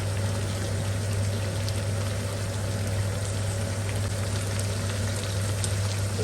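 Chicken frying in oil for Punjabi chicken pulao gives a steady, dense sizzle with a constant low hum underneath, unbroken and without talk throughout.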